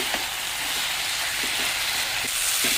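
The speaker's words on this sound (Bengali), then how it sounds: "নেড়ে চেড়ে ভালো করে কষানো হয়ে গেছে" Boiled banana flower sautéed in a pan for a mochar ghonto with lentils, giving a dense, even sizzle up close, with soft stirring scrapes every half second or so.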